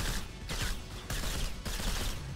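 Rapid gunfire rattles in the shooter game STRAFE: dense, loud bursts of shots in quick succession with sharp repeated attacks, and no talking over them.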